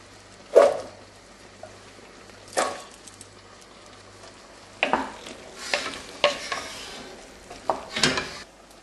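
Drained chickpeas and red kidney beans are tipped into a pan of cooking chilli con carne and stirred, making soft sizzling and several sharp scraping stirs against the pan, quiet and close.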